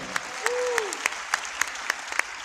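Sparse, evenly spaced claps ring out in a church congregation at a pre-Christmas service, a handful of distinct hand strikes repeating in a loose rhythm, with a brief gliding tone sounding early on.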